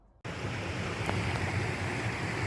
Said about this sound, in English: hopefully you can hear me over the water